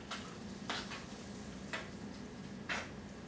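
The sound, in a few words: stirring no-bake cookie mixture with vanilla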